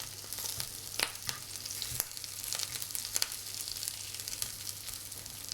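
Mini chickpea burgers sizzle and crackle steadily in a frying pan, with a continuous hiss punctuated by sharp pops and spits throughout, close and moderately loud with no talking.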